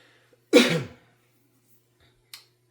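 One single, sharp cough close to the microphone in a quiet room, followed by a faint click.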